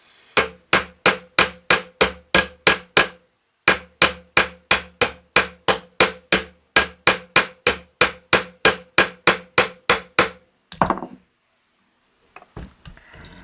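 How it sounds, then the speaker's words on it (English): Rapid, even blows of a Warrington hammer on a nail ring out in two long runs with a short pause between, followed by a few softer knocks and rustling. "Using my Warrington hammer."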